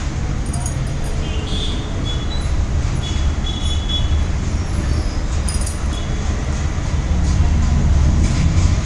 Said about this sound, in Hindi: और आ गई हूँ लखनऊ रेलवे स्टेशन पे।